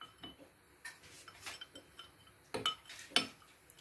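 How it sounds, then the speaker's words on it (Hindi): A spoon stirs cornflour into a milk mixture in a bowl, giving quiet, irregular clinks and scrapes against the container with short pauses between strokes and no talking. "अच्छी तरह से आपने मिक्स करना है इसको, ताकि इसमें डलियाँ ना रह जाए"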